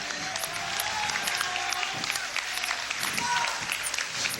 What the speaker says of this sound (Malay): Apa kata kita berikan tepukan untuk Rakib?